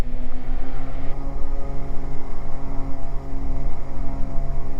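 Twin piston engines of a Beechcraft G58 Baron run up to takeoff power, a loud, steady multi-harmonic drone inside the cabin with no talk over it.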